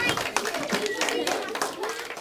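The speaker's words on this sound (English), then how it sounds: "Give him a clap, that's brilliant." Classmates clap for a pupil in a primary school history lesson on the Tudors, a quick patter of hands mixed with children's voices and chatter.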